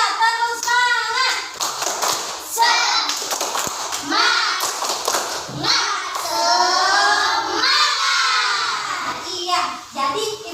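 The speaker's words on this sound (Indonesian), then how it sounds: "Satu, dua, tiga, tepuk semangat." A classroom of children doing a rhythmic spirit clap with their teacher, patterned clapping and taps mixed with children's voices chanting and calling out together.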